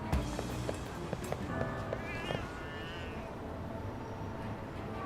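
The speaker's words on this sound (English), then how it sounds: "Cats." Cats in the video game Lost Judgment give a few short meows over a busy ambient backdrop, with scattered game sounds and footsteps around them, at moderate distance.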